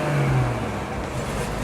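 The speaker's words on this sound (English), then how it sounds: "see what you mean when you rev it" A Porsche engine revs up on a cold start, a loud close roar that swells briefly and then settles into a steady rumble.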